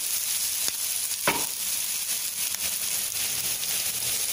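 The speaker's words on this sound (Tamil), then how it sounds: "வெங்காயம் வந்து நல்லா இந்த அளவுக்கு நல்லா வதங்கி ரோஸ்ட் ஆகிற வரைக்கும் நல்லா வதக்கிடுது" Onions sauté in a pan for a potato pepper fry, giving a continuous close hiss and crackle with a couple of brief stirring scrapes and no talking.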